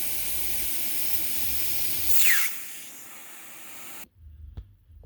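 A Lindhaus HF6 vacuum runs during a suction airflow test, making a steady airy hiss with a rising whistling sweep in the middle. It then shuts off abruptly, leaving faint handling noises.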